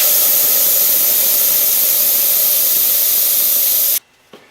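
Ruglide lubricant sprays from a spray bottle during motorcycle tire work, a loud, steady, close hiss lasting about four seconds before cutting off abruptly, followed by a faint clunk.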